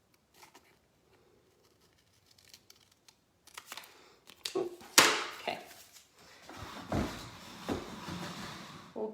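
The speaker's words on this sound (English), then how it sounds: "Let's cut off some of that extra gold here." Excess gold transfer being cut away from a jewelry box. Quiet handling at first gives way to a cluster of sharp snips and rustles, fairly close, with no talking.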